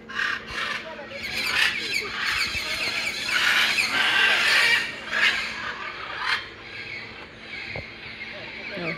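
Blue and gold macaws squawk loudly and repeatedly nearby in harsh bursts, with people talking in between the calls.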